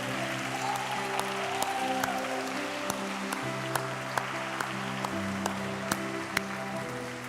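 A church congregation applauds steadily, a dense wash of clapping from many hands that holds for several seconds under sustained background music, with no talking.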